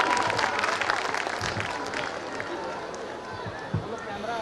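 An audience at a school annual function claps steadily, a dense patter of applause filling the room, slowly tapering off toward the end.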